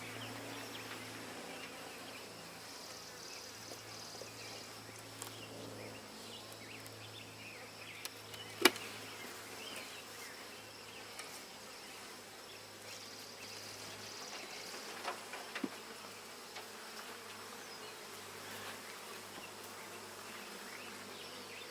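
Honeybees buzz around an open hive during a homestead beekeeping inspection: a steady, faint, close hum that lasts throughout, with a few sharp clicks and light handling knocks.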